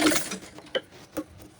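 A domestic sewing machine stitching fabric for a baby girl's butterfly-sleeve top, a short mechanical run of a few ticking, ratcheting clicks, fairly quiet and close, with no talking.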